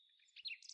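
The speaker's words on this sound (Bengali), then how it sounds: "শালিক আর দোয়েলের ডাকে ভোরের নিস্তব্ধতা ভেঙে গেল।" Dawn calls of mynas and magpie-robins in a quiet rural field at first light: a thin sustained high chirp followed by a few brief, brighter tweets, faint and somewhat distant.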